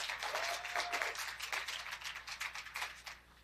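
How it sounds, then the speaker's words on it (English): Scattered, fairly faint clapping from a conference audience thanking panelists, thinning out toward the end. "Let's give them a round of applause."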